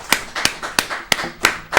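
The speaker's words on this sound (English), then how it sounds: "It's okay to clap" An audience claps slowly and sparsely, six distinct hand claps spaced about a third of a second apart in an even rhythm, close and fairly clear with little else around them.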